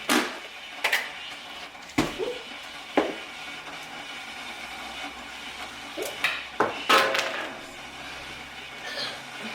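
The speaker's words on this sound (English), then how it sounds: "Not me dropping my earbud." A small earbud drops and clatters on a hard kitchen surface, giving several sharp, brief knocks spread across the moment, close and fairly faint against quiet room noise.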